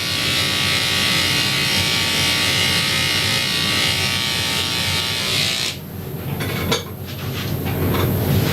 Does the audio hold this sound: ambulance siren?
no